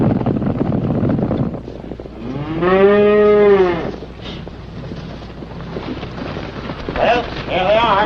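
A single loud cow moo rings out at middle distance over wind buffeting the microphone, with other low rumbling noise around it.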